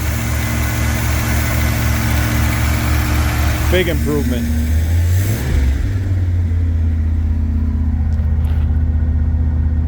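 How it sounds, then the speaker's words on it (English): A 1982 Pontiac Trans Am with Crossfire Injection idles high but steady, a continuous low rumble that stays close and even throughout while someone speaks briefly over it. "Hook that up and it's idling high,"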